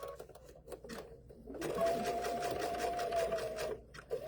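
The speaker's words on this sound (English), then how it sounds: "So we're going to sew to our first marked line." A sewing machine stitches along a fabric-wrapped rope bowl, a few short bursts of stitching leading into a steady two-second run at moderate volume, then stopping with a couple of brief clicks.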